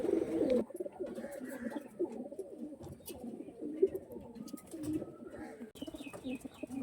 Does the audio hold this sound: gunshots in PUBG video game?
no